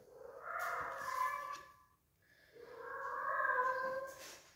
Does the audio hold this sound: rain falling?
no